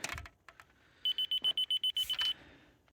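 A rapid series of about a dozen short, high electronic beeps at an even rhythm from a laser level receiver, preceded by some faint handling noise.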